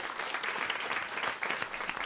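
An audience gives a round of applause at a food-focused climate event: dense, even clapping from a crowd, steady and moderately distant with no voices.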